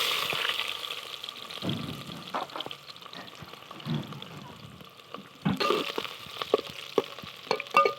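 Onions frying in a pan as the first step of a beef salan, a steady soft sizzle with scattered stirring clicks and louder crackling bursts.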